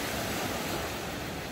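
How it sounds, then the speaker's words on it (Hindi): Steady ocean surf washing onto Sauble Beach after sunset, a continuous broad roar of breaking waves with some wind, moderately loud and without voices. "खूबसूरत सा ये समंदर, खूबसूरत सा ये बीच"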